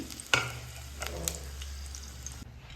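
Red chilies frying in hot oil, with a sharp sizzle as they hit the pan and a steady crackle that follows. A few light stirring scrapes come through, and there is no talking.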